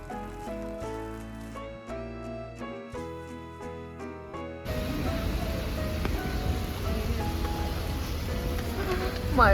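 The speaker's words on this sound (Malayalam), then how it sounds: "മഴ ഞങ്ങളെ ചതിച്ചു ഗൈസ്." Rain falls outdoors in Vienna, Austria. Soft plucked music plays for the first half, then a dense, steady patter and hiss takes over and grows slightly louder toward the end.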